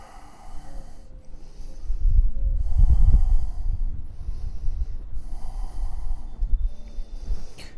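Slow, audible breaths drawn in and pushed out through the nose while holding a yoga plank on a rooftop, several close, soft snorting exhalations in a steady rhythm with no talking.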